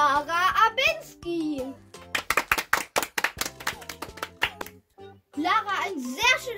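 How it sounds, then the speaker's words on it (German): A class of children claps for a pupil's report card in rapid, uneven bursts of close handclaps, with children's voices talking before and after the applause. "es gibt ein ordentliches Klatschen"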